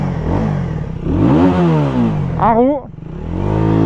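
An Aprilia RS 125 2012 motorcycle engine revs up in short rising bursts, close and loud, mixed in with someone talking over it.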